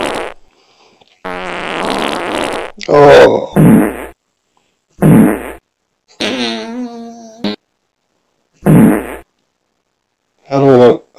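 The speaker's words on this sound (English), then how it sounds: "A mercy fart." Several loud, buzzy electronic fart noises from a novelty fart button in bursts separated by silences, some long and squeaky, with a brief spoken exclamation.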